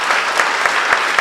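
A church congregation at a worship service breaks into brief, loud, dense applause, many hands clapping together with a few sharper accents.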